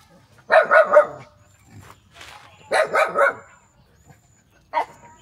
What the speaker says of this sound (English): baby dog.